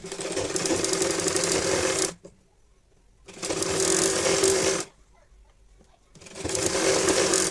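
A sewing machine stitches the edge of a baby saliva towel in three steady bursts of rapid, even whirring, each lasting a couple of seconds and separated by short quiet pauses.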